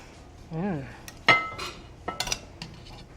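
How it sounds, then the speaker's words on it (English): Chicken thighs lifted out of a skillet make a few sharp metal clinks and utensil scrapes against the pan, with a brief vocal sound early on and short gaps between the knocks. "now we're going to take these out of the skillet"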